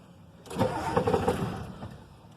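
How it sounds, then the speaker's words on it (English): A newly installed gear reduction starter cranks a 1993 IDI diesel engine for about two seconds, a steady whirring churn with rhythmic compression pulses, heard up close without talk. "We just got the starter installed, so let's see if it spins faster than it did before."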